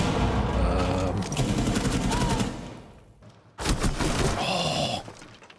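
Pistol fire in the tactical shooter Rainbow Six Siege, a dense run of sharp close shots that breaks off briefly partway through, then starts again with more rapid shooting.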